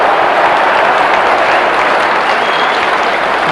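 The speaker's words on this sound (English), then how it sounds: "An all-round applause for endeavour as much as anything there." A football stadium crowd at an FA Cup third-round replay between West Ham United and Wrexham applauds continuously, a dense, loud wash of clapping that holds steady without pause.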